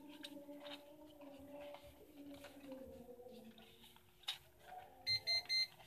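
An S103 toy drone gives a few short electronic beeps during setup, three quick tones near the end over faint room hum.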